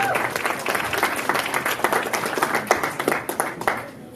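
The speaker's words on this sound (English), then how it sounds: "So please give a big round of applause to Srijith." A graduation celebration crowd in a hall gives Srijith a round of applause: dense, sustained clapping from many hands, fairly close and loud, running steadily throughout with a faint crowd murmur underneath.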